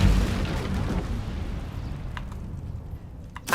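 A burst of magical fire from an Incendio spell in Hogwarts Legacy, a loud roaring whoosh at the start that settles into a sustained crackling rumble, with sharp flares near the end.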